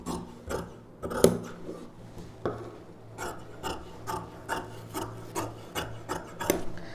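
Scissors cutting cloth for a puff-sleeve paavadai sattai, a steady run of rasping snips roughly every half second, close and crisp, with no voices.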